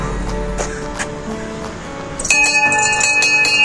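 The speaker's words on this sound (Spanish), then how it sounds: "una campana que pone Campana Libertad, Liberty Bell." The Liberty Bell at the entrance to Portomarín on the Camino de Santiago is struck, and a bright sustained metallic ring with lingering overtones follows quieter background sounds.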